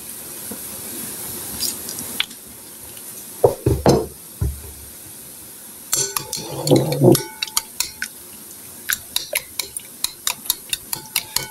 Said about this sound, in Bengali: ভালো করে আমি মিশিয়ে নিব